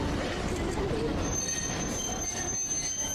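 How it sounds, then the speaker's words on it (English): Train wheels squeal steadily on the rails as a train in Kanagawa, Japan changes tracks, a continuous high screech over loud, dense rumbling that lasts throughout. "They're changing tracks. That's what the sound is."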